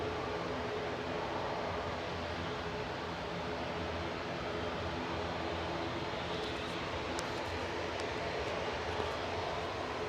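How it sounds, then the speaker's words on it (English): An Aer Lingus propeller aircraft lining up at Manchester Airport, a faint, steady distant engine drone under broadband background noise, with no voices. "in the background, Aer Lingus prop lining up"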